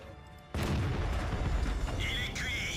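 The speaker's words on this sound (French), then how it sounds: "Ah, mon tir est parti trop tôt." A tank cannon firing in the video game World of Tanks, one sudden loud blast followed by a sustained rumbling roar and a ringing electronic game tone near the end.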